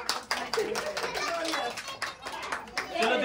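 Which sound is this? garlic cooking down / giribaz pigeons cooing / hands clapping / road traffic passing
hands clapping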